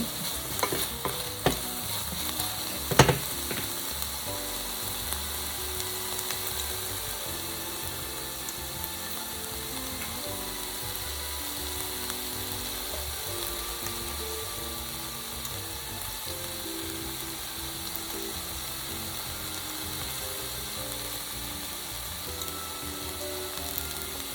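Red lentils frying in a pan while being stirred, a steady close sizzle with soft scraping of the utensil, a sharper clack near the start, then continuous even frying with no talk.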